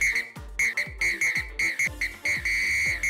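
A police whistle shrills in a rapid series of sharp, loud blasts, about ten short bursts in quick irregular rhythm, heard close and alone.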